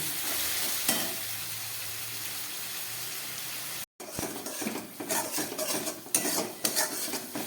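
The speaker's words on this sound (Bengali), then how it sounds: "মশলাটাকে খুব ভালো করে আমি এবারে কষিয়ে নেব" Spice paste is sautéed in a pan for an oyster mushroom curry, a steady close sizzle with a brief silent gap, then scraping stirs and clinks of a spoon against the pan.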